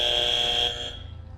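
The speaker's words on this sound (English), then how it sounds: "Who hit the buzzer first?" A short, loud electronic quiz-show buzzer blares for about half a second, then cuts off into a faint low rumble.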